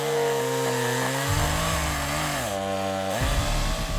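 A chainsaw cuts a notch into a standing tree, its dull chain making the engine drone loudly and steadily up close, the pitch dropping and rising as the blade bites into the wood.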